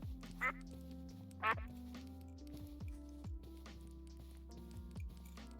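Ducks in the TerraFirmaCraft video game quack a few times in short raspy bursts, spaced irregularly over a low electronic music bed while someone talks.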